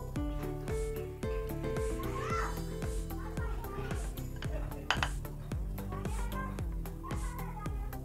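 Flour is stirred into brownie batter in a bowl, a close, rhythmic run of spoon scrapes and clinks against the bowl, with a voice and talking over it.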